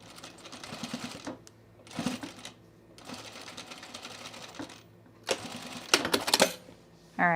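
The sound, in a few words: sewing machine stitching a hoodie seam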